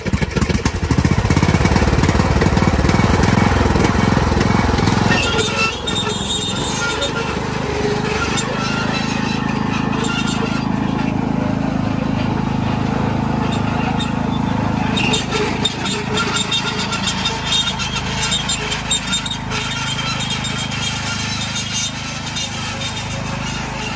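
Loud, rough car exhaust rumbles close by without a break, its revs rising and falling throughout.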